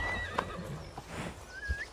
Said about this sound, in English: he's going on foot, even though he's summoned his horse